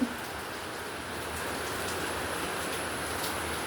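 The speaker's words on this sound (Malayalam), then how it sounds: "പുറത്ത് നല്ല മഴ പെയ്യുന്നു" Heavy rain pours down outside a balcony, a dense, steady hiss with low rumble that holds evenly throughout, with no voices over it.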